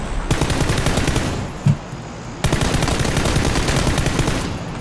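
Two long bursts of rapid automatic gunfire in the video game PUBG, loud and close, separated by a short gap with a single thump, no voices.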